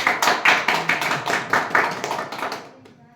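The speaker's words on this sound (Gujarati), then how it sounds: "અમે ખૂબ તાળીના ગડગડાટથી અમારા જયસ્વાલ સરને અમે વધાવીએ છીએ" A short burst of applause from a gathered crowd at a community meeting honouring Jaiswal sir, with brisk overlapping claps that fade out after about three seconds.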